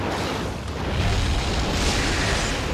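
A bomb explodes in the Monster Hunter X game on the 3DS, during a hunt of a ferocious Gore Magala. It is a loud, sustained, rumbling blast that swells and roars across the whole stretch with no talking over it.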